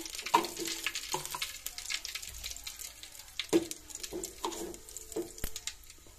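Cumin and mustard seeds crackling in a little hot oil for a village-style sambar tempering, steady soft sizzle broken by sharp pops and clinks of a spoon against the pan, close and moderate in level.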